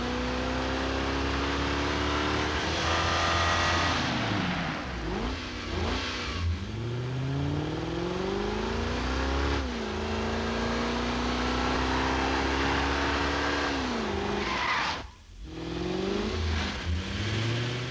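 A Lexus coupe engine revs hard and repeatedly in a car commercial, rising and falling through the gears, loud and close, with a brief sudden drop in sound about two thirds of the way through.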